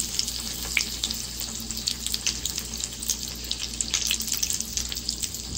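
Crispy potato cutlets stuffed with chutney, Rajasthani style, fry in a pan with a soft, continuous crackling sizzle and scattered sharp pops, close and fairly quiet, with no talking.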